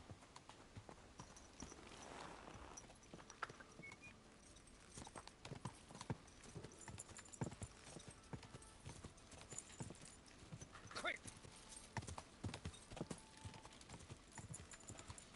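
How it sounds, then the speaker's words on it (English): Horse hooves clip-clop steadily along a road in the medieval video game Kingdom Come Deliverance 2, quiet and continuous, with an occasional faint snort. "that was my horse"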